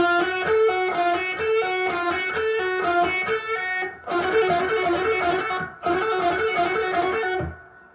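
A distorted electric guitar plays a quick repeating riff, loud and close, with two brief breaks before it stops.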